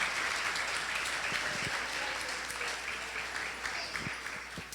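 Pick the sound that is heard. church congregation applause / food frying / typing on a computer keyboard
church congregation applause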